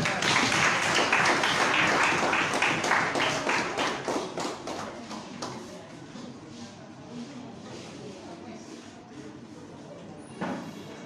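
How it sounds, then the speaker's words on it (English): Applause from an audience at an athletics award ceremony, a dense burst of clapping that is loudest at the start and thins over several seconds, with a lone loud clap near the end. "Round of applause."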